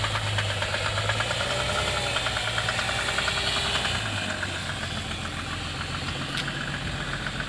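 Mercedes-Benz W140 engine running steadily just after starting, a continuous rough idle with a knocking, vibrating rumble, close and fairly loud throughout.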